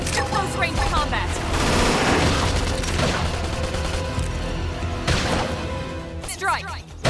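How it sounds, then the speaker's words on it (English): A flame grenade bursts in the Xenoblade Chronicles X video game, a loud dense crackle of blasts and rapid gunfire-like impacts running over several seconds amid battle, with character voices shouting over it. "Flame grenade!"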